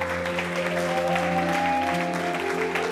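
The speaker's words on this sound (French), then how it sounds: "Acclamons le Seigneur pour notre héritage." A church congregation claps and cheers, praising the Lord, as a sustained wash of applause under a loud, steady tonal hum of music, with no pauses across the stretch.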